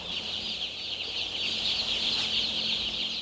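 Young chicks on a large poultry farm raised for samgyetang make a dense, continuous chorus of high cheeping and clucking, many birds at once, steady and fairly loud.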